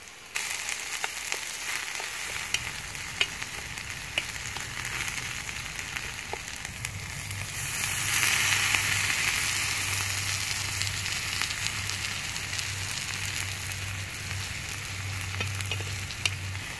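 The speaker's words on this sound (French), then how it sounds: "On peut déjà commencer à entendre l'oignon." Onion frying in a pan over a wood fire gives a steady sizzle and crackle that swells midway and holds, close and fairly loud, with no voices.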